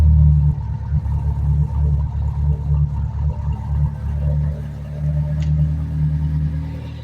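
A Mitsubishi Lancer project car's engine idling after a cold start, a steady low rumble with an even, continuous drone close by and no voices.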